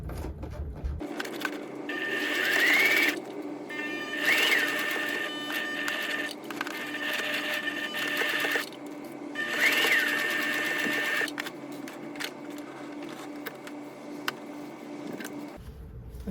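A domestic sewing machine runs a jacket seam at a 4 mm stitch length, buzzing in several steady stretches with brief pauses between, with a rising motor whine at each start, close and fairly quiet.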